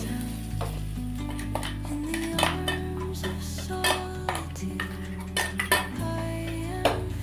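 Coconut and garlic paste frying in a pan while being stirred, with steady close sizzling and repeated metallic scrapes and clinks of a utensil against the pan, and no talking.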